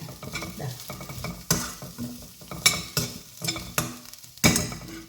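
Vegetables for drumstick leaf wheat upma are sautéed in a pan, and a spoon scrapes and stirs in rhythmic bursts over a light sizzle. The sharp metallic strokes come close and loud at irregular intervals.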